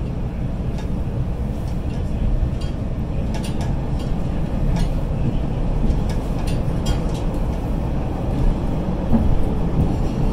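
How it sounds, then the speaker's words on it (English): A Chicago 'L' Brown Line train to Kimball rolls along the rails with a steady loud rumble, broken by intermittent clicks and clatters from the wheels throughout. "This is a Brown Line train to Kimball."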